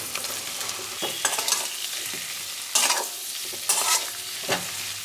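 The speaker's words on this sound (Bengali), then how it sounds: "মশলা কষানো হয়ে গেছে, ভেজে রাখা আলুগুলো অ্যাড করে দেবো" Spiced masala being stirred and fried with pre-fried boiled potatoes in a home kitchen pan, a soft continuous sizzle broken by several scraping stirs of a spoon against the pan, close and fairly quiet, with no talking.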